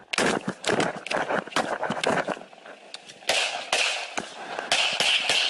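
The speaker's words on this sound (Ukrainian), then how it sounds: "Далі чути постріли." Sharp cracking gunshots, many of them in irregular bursts, loud and close, layered over noisy, chaotic background sound.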